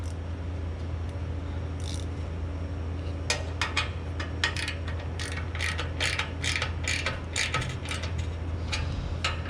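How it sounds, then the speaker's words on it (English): A ratchet wrench with a 10mm socket tightens bolts on an aluminum part during a Dodge Charger or Challenger active exhaust delete, giving quick bursts of clicking over a steady low hum, close by and fairly soft, with no talking. "And we're going to grab our 10mm socket."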